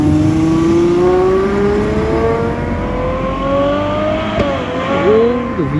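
A red Ferrari 812 with a V12 engine revs loudly nearby, its pitch climbing smoothly and then dipping and surging again in quick blips toward the end.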